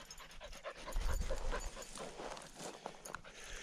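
A dog pants and walks outdoors along a rural road, rhythmic breathing mixed with soft footsteps on the ground, fairly faint and close, without speech.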